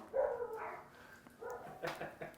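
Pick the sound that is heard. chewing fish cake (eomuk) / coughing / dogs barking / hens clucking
dogs barking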